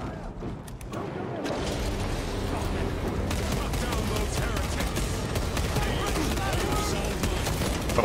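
A heavy bolt rifle fires in sustained rapid bursts in the video game Space Marine 2. Loud, dense gunfire and explosions fill the whole stretch after a short quieter opening.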